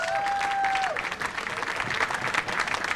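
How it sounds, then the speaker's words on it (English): A telethon studio audience applauds continuously while a held musical tone fades out near the start, leaving steady clapping. "Come on, let me hear a round of applause"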